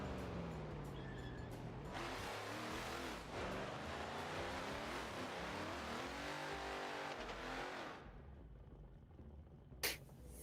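A JZX drift car in qualifying at Tokachi International Speedway, Japan, roaring past with revving, fluctuating engine tone and tire noise for about eight seconds before fading into distant ambience, then a brief sharp knock.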